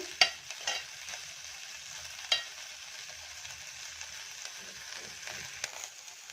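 Ingredients for chavalikayi palya dry-roasting in a pan, a soft, faint sizzle with occasional spoon scrapes and clicks. Close by, with no talk.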